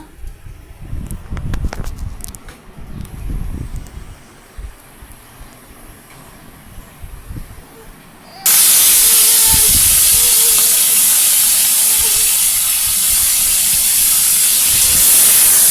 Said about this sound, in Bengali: এই যে মাছগুলো ভেজে নিব একে একে সব।